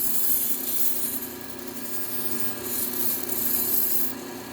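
A Wusthof or Henkel chef knife is honed with steady, continuous rasping strokes, a close scraping rub that swells and fades in a rhythmic pattern with no voices.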